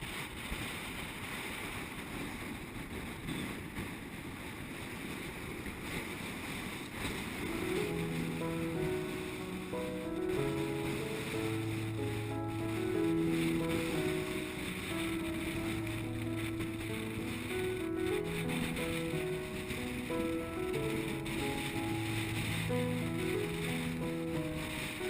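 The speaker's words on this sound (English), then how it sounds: "A close reach into the wind is not the most comfortable sail for us on board, but Anna Cam is always right in her happy p" A sailboat on a close reach into the wind, with a steady broadband rush of wind and waves throughout and music playing over it from partway in.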